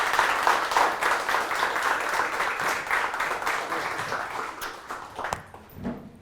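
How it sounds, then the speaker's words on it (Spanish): Audience applause for a politician, a former Barranco mayor and congressman, at a Lima presentation: sustained dense clapping that fills the room, then thins and fades out over the last second. "Un fuerte aplauso"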